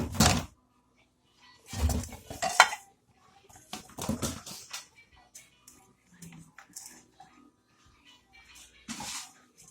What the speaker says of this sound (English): We are going to mix the apples together with all the other ingredients.